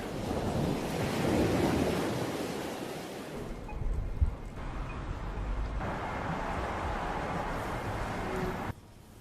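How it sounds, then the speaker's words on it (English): Heavy surf roars and crashes against the shore in a continuous wash, swelling early on before settling into a steady, slightly quieter churn. "the same effect occurs with ocean waves crashing on shore"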